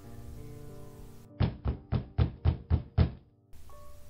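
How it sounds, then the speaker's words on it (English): Seven heavy knocks on a door, loud and close, hammered in an even rhythm with a brief pause before and after, backed by a low droning ambience. "The moment I knocked on the door, the thudding sound of the knock was so loud, so frightening, and so real that it woke me up from my sleep."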